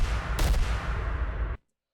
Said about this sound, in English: I found an impact sound on Splice, which sounds more like a gunshot